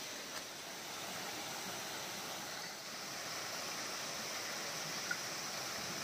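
Steady broadband rush of a mountain waterfall stream near Lepcha Falls at Jogighat, a continuous even wash of water with no break, fairly distant and soft.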